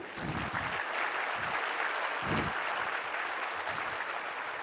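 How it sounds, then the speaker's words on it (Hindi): An audience at a Maha Shiv Jayanti festival gathering applauds for Lord Shiva, with steady, dense clapping sustained throughout at moderate loudness. "एक बार परमात्मा शिव के लिए भी ज़ोरदार ताली"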